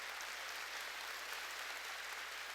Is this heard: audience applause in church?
yes